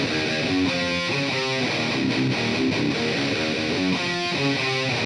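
Distorted electric guitar through a Boss Metal Zone pedal into a 1972 Fender Super Reverb plays a quick run of gritty, bright notes and chords with no voices, ending abruptly.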